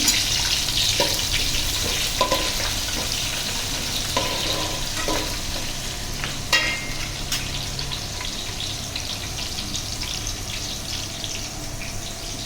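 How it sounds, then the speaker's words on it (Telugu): Onions frying in a pan for egg biryani give a steady, close sizzle throughout, with occasional stirring scrapes and a few brief clinks. "చూడండి ఆనియన్స్ కొంచెం ఫ్రై అయినాయి"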